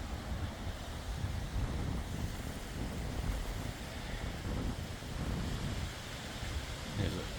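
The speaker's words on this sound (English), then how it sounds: "Extremely windy day, but nice view." Strong wind buffets the microphone outdoors at a hilltop temple viewpoint in Thailand, a steady low rumbling roar with gusty swells throughout and no voices.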